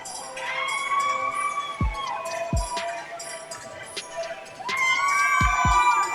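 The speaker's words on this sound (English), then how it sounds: "Definitely getting a big pop of support from the local crowd here." A local crowd cheers as MMA fighter Matthew Jones walks to the cage, with a steady murmur and shouts in the arena and a few sharp thuds, the noise swelling near the end.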